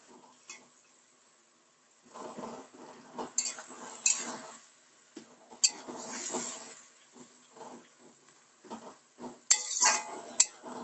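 Onion is stirred in oil in a pan for a chicken dish, giving intermittent close scraping and light clinks of a utensil against the pan, separated by brief quiet gaps.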